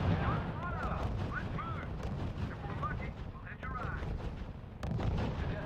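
Heavy gunfire and artillery in the World War II strategy video game R.U.S.E: a continuous low rumble of distant shelling and rapid shots with whooshing, warbling effects layered over it, fairly faint and steady.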